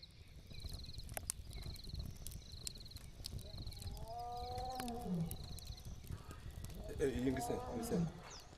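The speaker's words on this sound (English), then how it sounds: "lions will often roar just before sunrise" A lion roaring before sunrise in the African bush, heard at a distance as a couple of low groaning calls over faint birdsong and rustling, with a voice talking at times.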